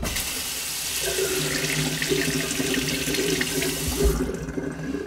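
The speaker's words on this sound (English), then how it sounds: "I like to put the brush head under the water" Tap water runs steadily over a facial cleansing brush head at a sink, a close, continuous splashing stream that eases off near the end.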